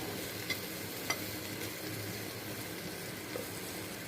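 Potatoes frying with a rice and lentil mixture for khichuri, a low steady sizzle under soft stirring scrapes and a couple of faint utensil taps, close but quiet, with no talking.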